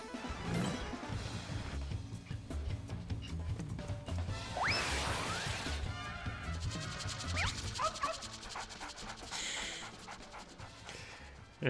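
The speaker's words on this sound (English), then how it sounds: "Gosh, he's a fast doggy." The dog Daigoro from Final Fantasy 14 pants quickly and rhythmically while running, with occasional yips and whimpers over a busy game soundscape of whooshes and effects at a moderate level.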